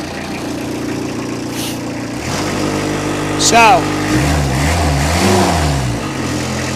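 The small engine of a 2008 FINN B70RHD mulch blower starts up and settles into a steady idle with a brief rev, loud and close, while someone talks over it.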